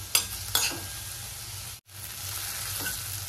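Onion and tomato sizzling and frying in a pan as they are sautéed, a steady hiss broken by a couple of sharp stirring scrapes early on and a brief gap midway, with no talking.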